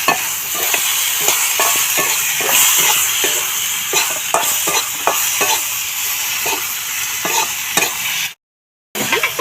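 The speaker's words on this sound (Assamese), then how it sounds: "মাংসটো আপোনাৰ দি পেলাই আপোনালোকে মোটামুটি 15-20 মিনিটমান সময় পূৰা ভাজিব" Meat is stirred and fried in a pan, steady sizzling with repeated scraping strokes of the stirring utensil at an irregular rhythm, close and fairly loud, with a short dropout near the end.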